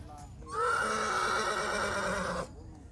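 At the Muktsar Maghi fair, a horse gives one loud, drawn-out neigh lasting about two seconds, close by, over quiet background noise.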